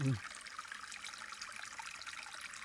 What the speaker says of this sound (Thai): น้ำเป็นลำธารสายเล็ก ๆนะครับ